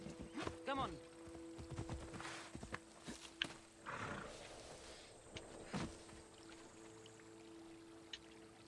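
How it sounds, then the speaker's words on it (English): A horse is summoned in the video game Assassin's Creed Odyssey, with scattered neighing bursts and hoof clip-clops at a modest level amid soft game ambience and some muffled talk. "That calls a horse."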